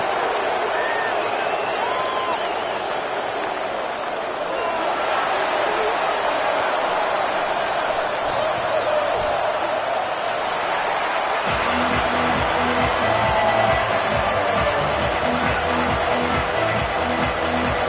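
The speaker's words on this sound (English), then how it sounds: "The crowd has packed this place out, and you can feel the energy reverberating" Packed football stadium crowd in a video game broadcast, a dense steady roar and buzz throughout, with a band-like rhythmic pulse joining in the second half.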